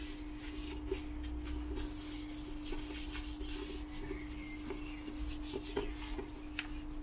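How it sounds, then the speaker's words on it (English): Grimex wipes rubbed over a surface inside a Peugeot J9 coffee van, a soft, steady scrubbing and rustling close to the microphone over a constant low electrical hum. "So let's give it a wipe down. I've got the old got the Grimex wipes"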